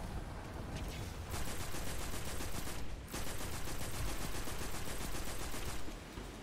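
Rapid automatic gunfire with heavy recoil from a weapon in Apex Legends, played on PS4 Pro, forms a dense, steady rattle of close shots with a brief pause midway, loud and continuous with no voices.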